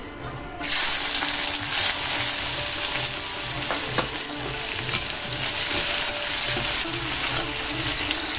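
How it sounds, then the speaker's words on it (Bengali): Whole spices, cumin, bay leaf and onion hit hot oil with a sudden loud sizzle that then runs steadily and close up, with faint clinks of stirring beneath, during preparation of a Bengali bele fish jhal. "এখন আমি দেব ফোড়ন, জিরে, তেজপাতা, দেব পেঁয়াজ।"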